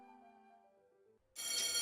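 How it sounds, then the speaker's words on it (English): Factory bell signalling the end of a work shift in the video game Panzer Hearts, a loud, bright ringing that bursts in suddenly after a quiet musical passage and sustains steadily to the end. "The ringing of the factory bell signals that work for my shift is done for today."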